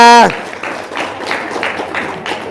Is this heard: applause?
yes